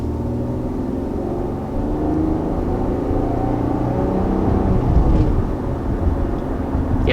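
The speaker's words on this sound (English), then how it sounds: "We're also cruising along here on a relatively bumpy road" Steady low rumble of road and tire noise inside a 2020 Infiniti QX60 cruising over a bumpy road, a constant smooth drone with a few soft thumps, no voices.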